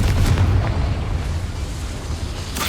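A Confringo spell explosion in the Hogwarts Legacy video game lands as a deep, heavy boom that rumbles on and slowly fades over a few seconds, loud and close with no voices.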